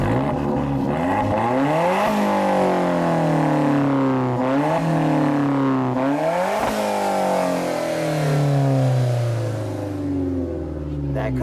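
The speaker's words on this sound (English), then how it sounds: "There's the engine, sounded pretty smooth." A 2015 Alfa Romeo 4C Launch Edition engine revving repeatedly, loud and close, with rising and falling sweeps as the throttle is blipped several times while people talk nearby.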